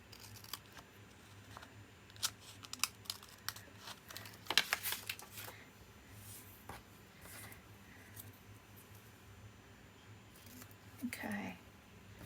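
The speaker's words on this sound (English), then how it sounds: "I'm just going to snip that." Scissors snip paper for a Christmas paperclip craft, giving a few faint, sharp cuts mixed with light crinkling and handling noises in a quiet room.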